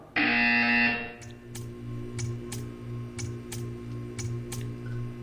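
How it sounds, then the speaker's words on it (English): A harsh electronic buzzer from Portal 2 blares for about a second, followed by a steady hum with faint regular ticks. "You will hear a buzzer."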